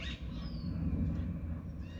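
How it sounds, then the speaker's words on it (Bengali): A common myna calls from a fruiting tree outdoors, a couple of clear whistled notes standing out faintly above a low rumbling background. "শালিক পাখি ডাকছে।"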